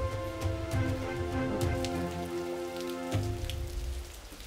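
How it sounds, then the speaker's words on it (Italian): Heavy rain falling in Sardinia, a dense steady patter of drops hitting surfaces all around, loud and continuous, with a few faint sustained tones beneath and no voices. "La pioggia non ci dà tregua"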